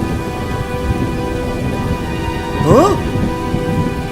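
Steady cartoon rain hisses down with a low thunder rumble in a Hindi ghost story, and a voice briefly exclaims partway through.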